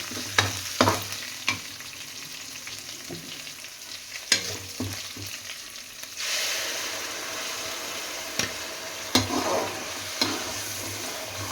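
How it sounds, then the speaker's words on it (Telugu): Masala fries in oil after golden-brown onions for a fish curry. A steady sizzle runs under sharp stirring knocks of a spoon against the pan, and the frying swells louder about halfway through, with no voices. "ఇది ఒక టూ మినిట్స్ అయితే ఆయిల్లోనే వేయించుకుందాం"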